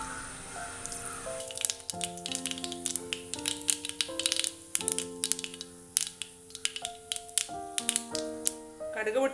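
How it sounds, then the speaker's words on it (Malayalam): Mustard seeds splutter in hot oil for bread upma, giving a dense run of sharp, irregular crackles and pops close by, with music playing underneath. "എണ്ണ ചൂടായിട്ടുണ്ട്. ഇതിലേക്ക് കടുക്,"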